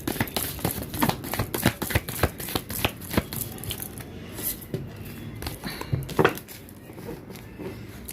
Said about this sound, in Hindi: कार्ड को आपके सामने यहाँ पर मिक्स करती हूँ पहले मैं।